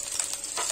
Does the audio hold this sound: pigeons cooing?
no